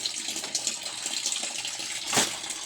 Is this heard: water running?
yes